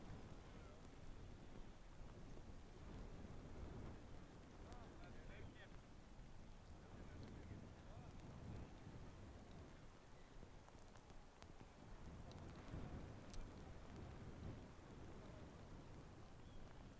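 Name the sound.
rain falling on a golf course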